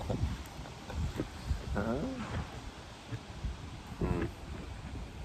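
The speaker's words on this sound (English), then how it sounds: "It's a very windy day today." Gusty wind buffets the microphone with low rumbling noise, while people talk briefly and move about nearby.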